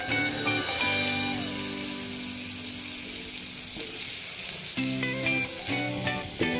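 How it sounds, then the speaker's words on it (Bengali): Butter melts and sizzles in a hot wok, a steady close frying hiss that holds across the whole stretch, with a few brief clinks near the end. "কড়াই গরম হয়ে গেছে, এবার আমি দিয়ে দিচ্ছি একটু মতো বাটার।"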